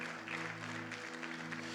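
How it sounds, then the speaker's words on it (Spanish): Faint, steady clapping from a church congregation, soft and distant, sustained throughout the short moment. "le dan un fuerte aplauso al Señor"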